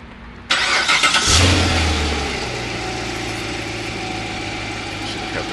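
A Chevrolet Corvette C7 engine fires up with a sharp burst, then settles into a steady, close idle that runs on alone.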